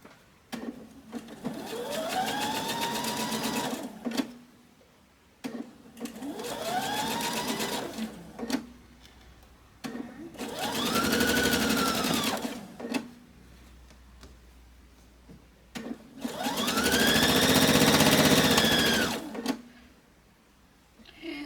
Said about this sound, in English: So basically that's what we're gonna do to sew this part together